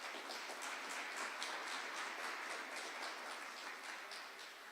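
A room at a First Nation historical gathering breaks into a sustained round of applause honouring several women, a dense continuous patter of many hands clapping at steady volume that tapers off slightly at the end.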